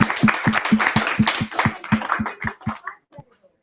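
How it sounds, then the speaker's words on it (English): Audience members at an Open Education Week talk clap for the speakers in a steady, evenly spaced rhythm of about a dozen claps. The clapping fades out after roughly three seconds. "I think we should give an applause to them"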